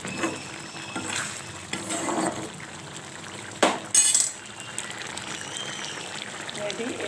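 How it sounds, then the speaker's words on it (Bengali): Jaggery is poured into a simmering fish curry of morola fish with potato, eggplant, pointed gourd and green mango, giving soft liquid trickling and pan sizzle, with a short clatter partway through and a voice speaking over it. "মিষ্টির জন্য গুড়, ওটা আমি ঢেলে নেব"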